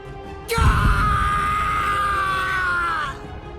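A man in the Bleach Rebirth of Souls video game lets out a single loud, sustained scream of pain lasting nearly three seconds, starting abruptly and fading out, with no talk over it.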